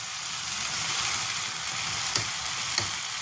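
Vegetables for a dry broccoli and green chilli stir-fry sizzle in a pan on a gas stove, a dense, even hiss close by with a couple of faint knocks near the end and no voices.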